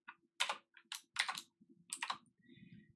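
Computer keyboard typing in bursts of clicky keystrokes, close and fairly quiet, with short pauses between runs and a faint steady hum underneath.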